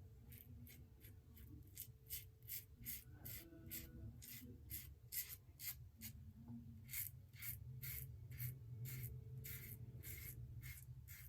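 A razor scrapes through soap lather in a steady series of close, rhythmic strokes. A low background hum runs underneath, and no one speaks.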